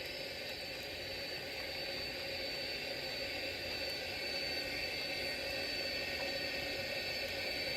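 Steady, dense roar of a Boeing 747-200's jet engines at takeoff thrust, a broad sustained rumble and hiss with a high whine, holding constant and loud throughout with no voices.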